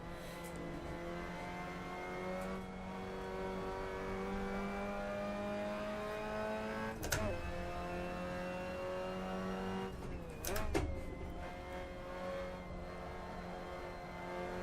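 A Japanese car in the racing game Assetto Corsa keeps a steady engine drone under load, with harmonics rising and falling, and two sharp shift or rev blips near the middle and later on. No voices are present.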